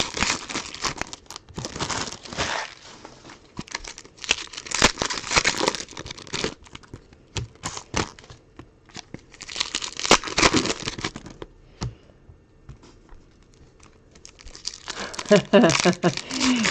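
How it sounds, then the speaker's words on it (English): Baseball card packs are opened during a card break, their wrappers crinkling and tearing up close in repeated bursts with short quieter pauses between packs. "opening 4 million packs of cards in this break"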